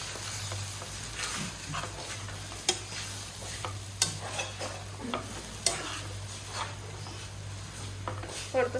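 A spoon stirs poha in a frying pan, giving soft repeated scraping and scattered clinks over a quiet, steady background hum, with a few sharper knocks against the pan.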